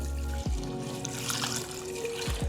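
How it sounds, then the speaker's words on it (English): Water trickles into a pot of Ofe Arugbe soup, a continuous close pour heard alone with no talking. "Add your water."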